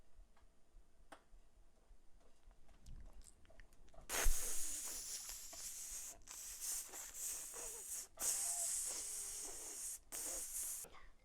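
An egg fries in a pan with steady broadband sizzling and hissing that swells after the first few seconds, dotted with small pops and crackles, close and alone without talk.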